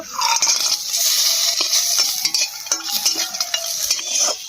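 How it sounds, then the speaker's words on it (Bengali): Bori (lentil dumplings) fry in oil in a pan with a steady hiss, while a spatula clinks and scrapes against the metal in irregular, close knocks. "বড়িটা ভেজে নেব।"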